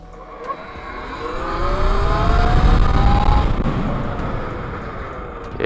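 An E-Ride Pro electric dirt bike pulls away from a start, its motor whine rising in pitch as it accelerates, loud and close, mixed with rumbling tire and ground noise that swells and then eases.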